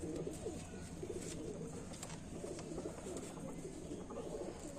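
Loton pigeons, a male and female pair, coo softly and continuously in low, rolling murmurs, faint and unbroken, with no talking.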